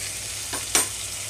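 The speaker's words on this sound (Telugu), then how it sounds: "ఇక్కడ ఇప్పుడు ఇందులోకి సన్నగా కట్ చేసి పెట్టుకున్న టమాటో వేస్తున్నాను ముందు" Finely chopped tomatoes go into a hot pan for a brinjal and cashew curry, setting off a steady hiss with two quick bursts of sizzle close by.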